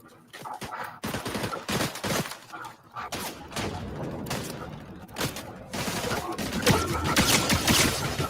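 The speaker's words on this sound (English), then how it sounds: "Damn, getting shot at by 2 people." Video game gunfire as the player is shot at by two enemies: repeated loud bursts and volleys of rapid shots, some close and sharp, merging into dense continuous firing toward the end, with a little talk.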